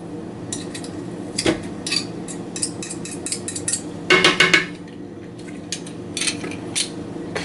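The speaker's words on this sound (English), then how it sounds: "I had a fork that I was going to scrape some of the garlic off the press with" In a kitchen during noodle salad prep, a metal fork clicks and scrapes against a garlic press, giving scattered sharp taps with a louder cluster of scraping clinks midway against a quiet background.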